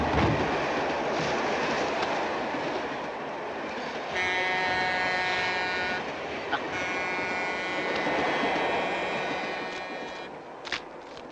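A train travelling on rails, with a continuous loud rumble and rattle, tonal squeals and whistling overtones rising midway, and a few sharp clanks near the end, heard up close without speech.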